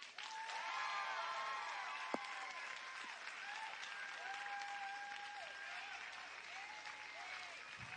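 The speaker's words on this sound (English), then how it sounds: "Still using the applause as vote system." Audience at a golf event clapping as a show-of-hands vote, a dense burst of applause that swells and then slowly fades over several seconds, moderately loud with a few scattered voices.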